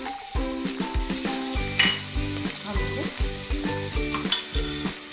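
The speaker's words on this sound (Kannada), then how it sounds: "ಇವಾಗ ಈರುಳ್ಳಿ ಬ್ರೌನಿಶ್ ಆಗಿದೆ ಸಾಕು ಇವಾಗ ಜೀರಿಗೆ ಹಾಕ್ಕೊಳ್ಳೋಣ" Browned onions and cumin seeds fry in oil in a pressure cooker for chitranna. A bright, continuous sizzle is heard with an occasional clink of a utensil, partly masked by rhythmic background music.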